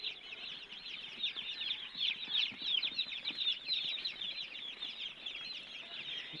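Broiler chickens clucking on a farm, a dense, continuous chorus of many birds close by with steady overlapping calls and occasional wing flaps.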